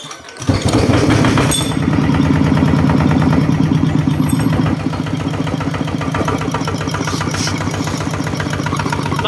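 A stock Yamaha RT140 engine idles steadily on its own, a loud, close and even low chugging with a brief rougher burst near the start before settling into a slightly quieter, regular beat.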